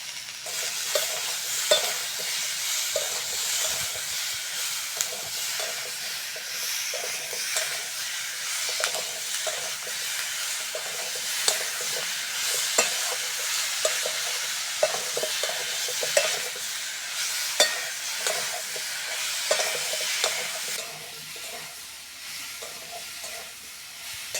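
Raw green tomatoes with salt frying in a pan, a steady bright sizzle and hiss with repeated scraping strokes of a spatula stirring them, close and fairly quiet throughout.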